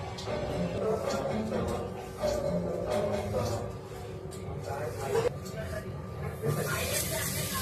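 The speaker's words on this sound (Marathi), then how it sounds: "तर चला फ्राय करून घेऊया।" Ghol fish pieces coated in semolina, rice flour and a little masala sizzle and hiss steadily in hot frying oil, close by, with indistinct voices and background sounds mixed in throughout.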